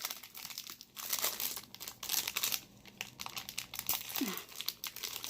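Close, crinkly plastic packaging of a Shopkins toy being crumpled and torn, with irregular rustling bursts and brief pauses over several seconds.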